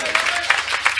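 Church congregation applauding during a French-language healing and deliverance worship service, bursts of clapping swelling in three waves across a short span, close and fairly loud with a voice mixed in.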